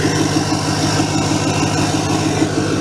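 A 2008 Ford F250 with a 6.4L diesel and DPF delete idles steadily up close, a deep rhythmic rumble topped by a faint constant whine.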